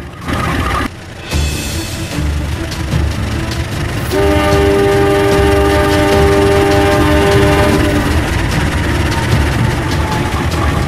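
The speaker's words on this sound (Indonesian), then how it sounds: "Gede, Badar tunggu hingga Kato memeriksa semua gerbong yang akan ditarik." A train at a railway accident site sounds its horn in a long, loud sustained blast from about four to eight seconds, over steady rumbling of rail cars and engine noise.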